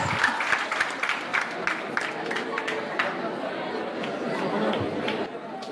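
Students in a school debate audience clap for a speaker opposing the motion, a brisk, continuous burst of applause mixed with lively crowd chatter and a voice talking over it throughout.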